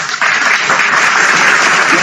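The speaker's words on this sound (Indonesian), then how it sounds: "Nah ini tepuk tangan dulu." Loud, dense burst of applause from a group, starting abruptly and continuing steadily with no talk over it.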